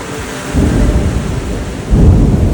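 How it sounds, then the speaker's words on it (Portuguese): Thunder rumbles over steady heavy rain in a Himalayan storm, with two loud low surges of thunder about half a second and two seconds in, and no voices. "Uma tempestade"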